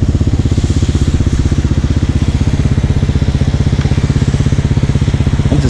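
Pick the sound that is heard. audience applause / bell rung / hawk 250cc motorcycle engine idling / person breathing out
hawk 250cc motorcycle engine idling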